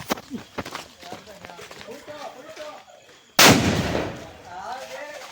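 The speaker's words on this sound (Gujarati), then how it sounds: "હવે આ અમારો કયો બોમ્બ છે વીઆઈપી વીઆઈપી ડબલા બોમ્બ ડબલા બોમ્બ" A Diwali 'double bomb' firecracker bursts in a village with one sudden loud, close bang that rolls off into a fading rumble, after several seconds of excited voices and smaller pops.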